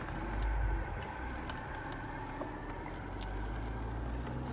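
A Porsche 911 Carrera GTS with a PDK transmission pulls away from a stop, its engine giving a steady, low rumble that swells briefly at takeoff and then settles to an even drone inside the cabin.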